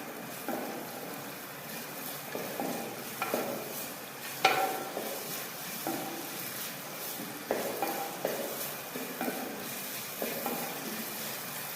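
Snake gourd and potatoes sauté in a pan, a faint sizzle under repeated scraping and stirring strokes of a spatula against the pan, with one sharper clink.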